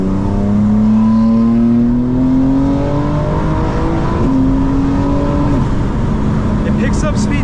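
A 900hp 2025 BMW M4 Competition xDrive accelerating hard, its engine note climbing steadily through the revs with a brief dip at the gear change before rising again, loud and close from inside the car.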